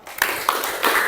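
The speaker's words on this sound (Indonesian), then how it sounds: "Kasih tepuk salut dulu." A group of people clap a salute in a classroom, a few sharp, rhythmic claps in quick succession, close and fairly loud.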